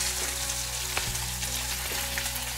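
Finely chopped medium onion added to hot oil with cumin, mustard seeds and curry leaves, giving a loud, continuous dense sizzle with a couple of brief clinks, no talking.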